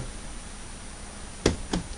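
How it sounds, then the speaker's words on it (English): A computer mouse is slammed onto a desk twice in quick succession near the end. The two sharp, close knocks come after a quiet stretch of low room noise. "that noise you hear is the sound of me slamming the mouse."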